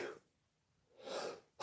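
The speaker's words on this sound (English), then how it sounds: "Well, we're going to have a sneezing fit," A single person sneezes: a short breathy intake, a pause, a second gathering breath, then a sharp loud burst at the very end, close and alone in a quiet room.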